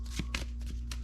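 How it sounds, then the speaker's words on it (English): A deck of Warfighter Vietnam board game cards being shuffled by hand, a few quick riffling bursts of papery rustle, close and fairly soft. "with the gray soldiers, we'll shuffle"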